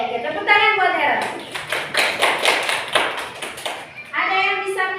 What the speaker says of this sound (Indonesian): oke, tepuk tangan buat Eras.